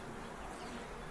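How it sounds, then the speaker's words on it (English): Bees buzz around a bee farm as a faint, steady hum of many insects, low in level and continuous, with no speech over it. "Just getting swarmed by bees now."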